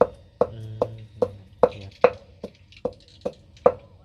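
A pestle pounds chili peppers for soup in a mortar with about ten sharp, evenly spaced thuds, close and clear, while a low hum runs beneath the first strokes.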